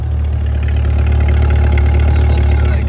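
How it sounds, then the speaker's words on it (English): A 2024 Chevrolet Corvette Stingray 1LT idles with a deep, steady exhaust rumble, loud and close throughout, with no voices over it. "Just listen to that exhaust, that is mean."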